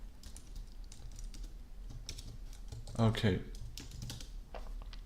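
Computer keyboard typing while coding a simple blog in the Padrino framework, faint scattered key clicks with a short louder burst of keystrokes in the middle, under quiet talk.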